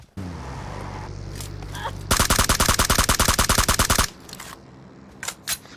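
Rapid automatic gunfire in PUBG Mobile rattles out in a dense, loud two-second burst, framed by quieter game ambience and a few scattered single shots afterward.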